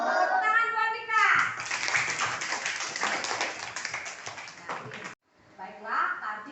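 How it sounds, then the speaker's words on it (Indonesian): Schoolchildren in a classroom clap together in a quick burst of applause, with children's voices chattering over and around the clapping before it cuts off abruptly. "Tepuk tangan buat Mika."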